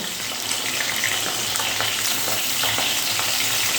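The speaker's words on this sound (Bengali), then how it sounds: "উল্টে পাল্টে এই মাছগুলো দুই দিকটাই ভালো করে ভেজে নিতে হবে।" Pabda fish fry in hot oil, a dense, loud, continuous crackling sizzle heard up close, steady from start to finish with no talk.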